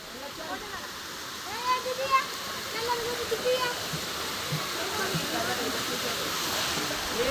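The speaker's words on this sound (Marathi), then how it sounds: "बघा धबधबा जोरात वाहतो वरून. बघा पाणी किती आहे." A waterfall rushes in a steady broad roar, with people talking and calling out over it at moderate distance.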